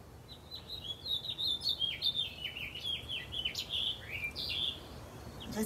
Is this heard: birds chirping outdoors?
yes